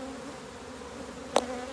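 Honeybees on a comb frame lifted from a hive during a natural colony split, giving a steady low hum of the colony throughout with one brief sharper buzz near the end, close by and without talk.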